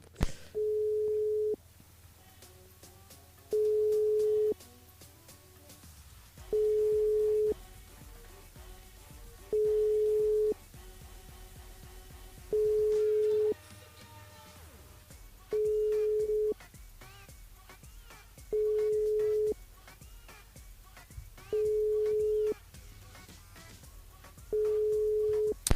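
A steady telephone tone rings out for an unassigned number. It plays in a regular pattern of about nine beeps, each lasting roughly a second, with muffled background sounds between them.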